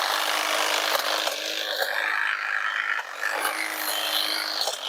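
An EGO HT2411 cordless hedge trimmer whirs steadily as it chews through dead, brittle branches, a continuous buzzing drone with scratchy, crackling bursts of wood contact and brief dips in the motor tone.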